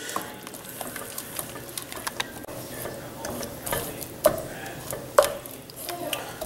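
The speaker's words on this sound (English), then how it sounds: "Let this simmer. I do this for about 2-3 minutes. Just constantly stirring this." Close, continuous stirring of a simmering chicken and spinach pasta sauce, with soft bubbling, scraping and a couple of sharper clinks of utensil on pan, no talking.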